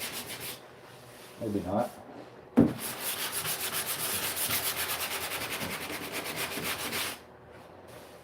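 Sandpaper scrubs by hand over the bodywork of a classic British car in a steady, close rhythm of back-and-forth rasping strokes, after a short opening burst, with a brief spoken remark.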